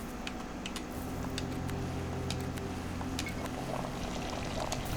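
Water pouring in Pathologic 2, a steady liquid stream running for several seconds at moderate level, with a faint low hum underneath and no talking.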